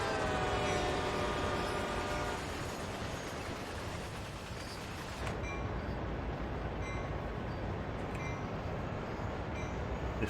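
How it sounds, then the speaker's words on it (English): A train in Train Sim World 2020 rolls past with a steady rumbling roar while its horn sounds as a sustained tone at the start, then cuts off, leaving the continuous rolling noise. "We'll give it a horn as we come through."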